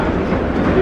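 Airport shuttle train pulling away from the platform at Orlando's airport, a loud, steady low rumble of rail motion close by, with no voices audible over it.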